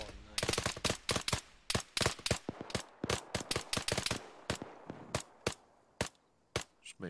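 A squad opening fire in Arma 3, with a rapid string of sharp, loud rifle shots in quick irregular volleys that thin out toward the end, a voice briefly audible at times.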